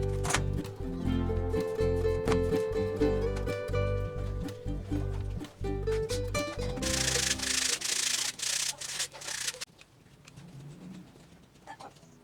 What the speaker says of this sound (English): You need to sand the edges to fit other parts.